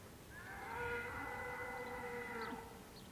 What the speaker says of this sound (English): We got a mother cow here giving birth to a calf.